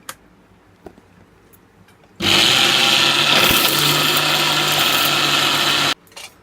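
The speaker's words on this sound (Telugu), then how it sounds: "వేసి మిక్సీకి పట్టుకోవాలి" A mixer grinder whirs loudly for about four seconds, grinding masala with salt and tamarind, with quiet taps before and after.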